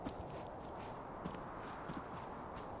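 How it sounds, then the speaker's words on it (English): Player footsteps in the survival game MISERY, a steady run of soft, dull thuds spread over a constant low ambient hum, quiet and seemingly placed behind the listener. "It's my footsteps, but the way that the ambient footsteps are played, it sounds like they're coming from like behind me."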